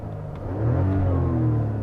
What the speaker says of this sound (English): the engine itself is a little whiny at startup, but it definitely has that 6-cylinder snarl